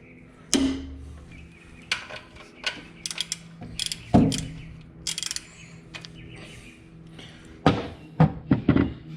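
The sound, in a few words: ratcheting to loosen Jeep Wrangler alternator belt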